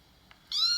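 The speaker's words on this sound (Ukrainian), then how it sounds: "Кішка теж привіталася з Оленкою." A domestic cat gives a single clear, close meow, rising out of near silence and held for about half a second.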